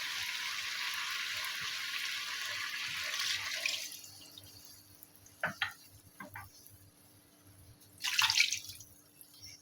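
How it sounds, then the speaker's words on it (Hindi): Water pours steadily for a few seconds into a pot of frying meat and spices for a spinach and radish meat dish, then stops, followed by a few scattered clinks and a short burst of splashing near the end. "अब हम इसमें पानी शामिल करेंगे।"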